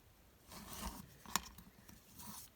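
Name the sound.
cutting material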